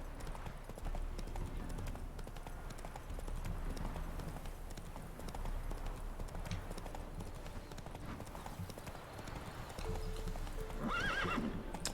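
Roach, Geralt's horse in The Witcher 3, galloping with rapid rhythmic hoofbeats and giving a neigh near the end, the clip-clop continuous and close over game ambience.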